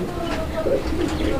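Caged pigeons coo in soft, low throaty murmurs at close range, a short continuous stretch with a faint background hum.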